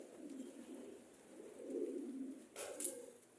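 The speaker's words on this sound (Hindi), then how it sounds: "ये देखें आप ऊपर अंदर कबूतरों का बसेरा भी है" Pigeons cooing softly from their roost up under the roof of a Sufi shrine in Sindh, low murmuring coos repeating over a few seconds with a faint brighter chirp near the end.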